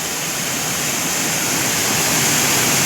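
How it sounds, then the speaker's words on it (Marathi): A large waterfall in heavy rain sends water pouring straight down, a loud, steady broadband roar that stays constant and close throughout with no voices. "ह्या धबधब्याचा पाणी आता डायरेक्ट असा खाली वाहत जात आहे"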